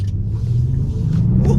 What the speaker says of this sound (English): Twin 2 turbos and 6 cylinders always make great friends